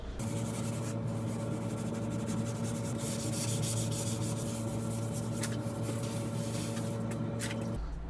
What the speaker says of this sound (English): So I'm gonna get to wet sanding.